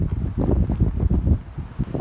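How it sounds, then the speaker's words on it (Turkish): Steady low rumbling wind buffeting a microphone beside beehives in February, continuous and fairly loud with gusty surges throughout. "Çok rüzgar var."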